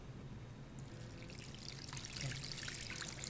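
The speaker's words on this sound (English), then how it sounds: "Now, I'm going to take my brine" Brine of dissolved sugar and salt being poured into a dish of beef for jerky, a faint splashing trickle that builds and grows louder partway through, with no voices.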